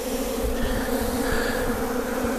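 Honeybees buzzing steadily around a hive during beekeeping work, with a continuous dense drone from many insects close by.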